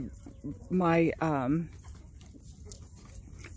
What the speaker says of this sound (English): you can see them out there fighting over hens right now